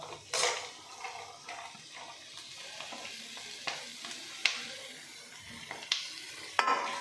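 Onions, beans, capsicum, carrot and tomato frying in a home kitchen pan, soft sizzle beneath intermittent stirring scrapes and sharp metal clinks of a spoon against the pan, close and quiet.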